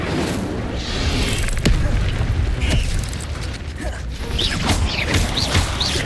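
The Incendio fire spell cast in Hogwarts Legacy, a steady whooshing, crackling burst with creaking and mechanical clatter, followed by sparkling chime-like spell tones toward the end, all played without any talk over it.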